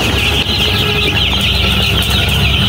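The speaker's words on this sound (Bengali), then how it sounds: "মুরগিগুলো আল্লাহর রহমতে সুস্থ আছে।" A dense, continuous chorus of peeping from seven-day-old color-breed chicks in a brooder bedded with sand and rice husk. The peeps sound steady and close throughout, with a low hum underneath.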